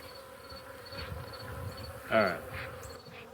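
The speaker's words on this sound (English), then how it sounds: "Trying to be quick because they're angry. Mad, mad bees." Angry honey bees buzzing around an open hive during a dearth, a steady close insect hum with a brief louder swell as one passes near, while a person briefly speaks.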